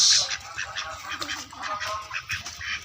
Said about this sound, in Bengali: দেশি হাঁস।